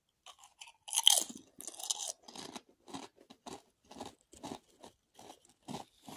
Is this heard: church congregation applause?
no